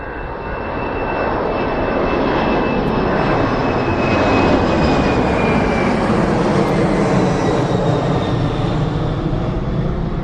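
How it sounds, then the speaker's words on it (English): A jumbo jet roars steadily through its takeoff, a broad engine rumble with a thin whine that stays loud and near for the whole stretch. "let's see and hear this fantastic jumbo taking off"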